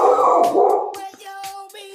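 A dog barks and yips a few times in quick, sharp bursts, fairly close, ending in a thin whimpering whine.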